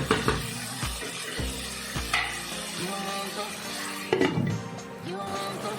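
Curry masala being stirred in a pan after water is added, a wet sizzle with scraping spoon strokes and occasional clinks against the metal, close by, while a voice talks over the cooking.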